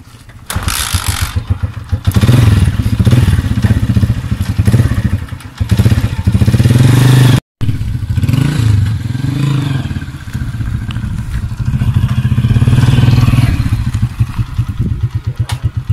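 An engine runs loudly and unevenly near a river in Sindh while being set up, its chugging mixed with clattering, mechanical knocks and thumps, with a brief cut midway.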